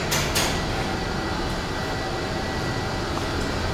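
A huge Downey Goodlein traction freight elevator runs with a steady, loud rumble and hiss, a few faint clicks near the start, and no talk.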